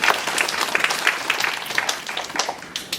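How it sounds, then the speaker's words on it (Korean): A congregation at a college semester-opening worship service claps for a speaker in a dense, even round of applause that holds steady and thins slightly toward the end. "귀한 말씀 전해주신 교모님께 감사의 박수 부탁드립니다."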